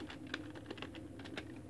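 Quiet, rapid keystrokes tap out a command on a computer keyboard at an MS-DOS prompt, an uneven string of soft clicks heard up close.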